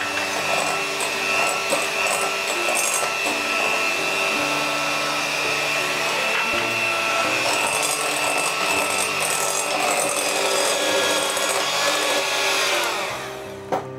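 An electric mixer whirs steadily and loudly while beating egg whites with sugar into a meringue, running continuously for several seconds before winding down at the end.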